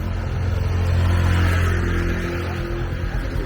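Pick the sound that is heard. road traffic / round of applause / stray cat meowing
road traffic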